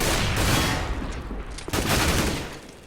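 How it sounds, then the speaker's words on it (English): Gunfire and a grenade blast in a Counter-Strike match on the Cache map: dense, continuous automatic fire and impacts over a loud rumbling burst, lasting just under three seconds without talk. "Doesn't drop Strix, but he gets dropped by the guns"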